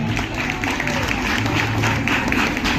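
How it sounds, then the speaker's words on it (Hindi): An audience at a Ganesh festival drama program welcomes a guest with loud applause, a steady mass of clapping mixed with crowd noise and a low rumble, with voices audible through it. "जोरदार तालियों से उनका वेलकम करते हैं"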